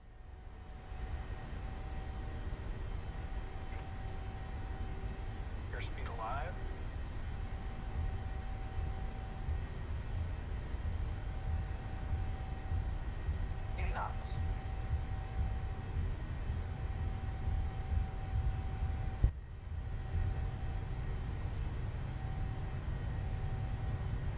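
Airliner jet engines spooling up for takeoff in a flight simulator: a steady, loud low rumble and hiss that holds constant throughout, with a brief dropout near the end.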